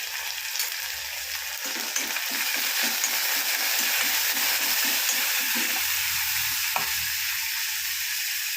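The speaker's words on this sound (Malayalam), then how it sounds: "എണ്ണയിലേക്ക് ഉള്ളിയും പച്ചമുളകും ഇട്ട് കൊടുക്കുക" Onions and green chilies frying in oil in a pan, a constant close sizzle with a stretch of rhythmic stirring scrapes in the middle, and no voices.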